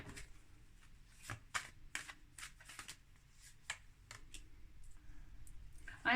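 Angel oracle cards are shuffled and drawn from a deck: a quiet run of crisp card snaps and flicks in an irregular rhythm, close and alone in an otherwise silent room.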